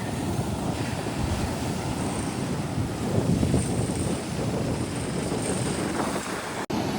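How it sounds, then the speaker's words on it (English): Steady, loud wind buffets the microphone outdoors while fishing with a shrimp-baited line and a two-ounce weight, a continuous low rumbling roar with no distinct events apart from a brief click near the end. "The wind is catching the line a little bit."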